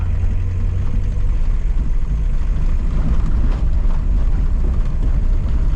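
A Peugeot 309 engine drones in a steady, even rumble from inside the cabin as it pulls uphill in second gear under load.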